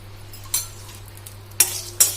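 Lentils being fried and stirred in a little oil for a fenugreek leaf and carrot chutney, a soft close sizzle with three sharp spatula scrapes against the pan, under a low steady hum.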